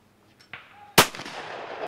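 A single sharp, loud shotgun blast rings out with a ringing, decaying tail at an outdoor clay target shooting competition for Hungarian forestry workers.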